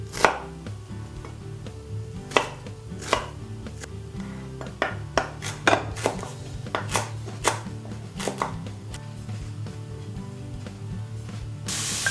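Vegetables for a lentil bolognese sauce chopped on a board, a series of sharp knife knocks in uneven rhythm, about a dozen close, distinct strikes over a low background.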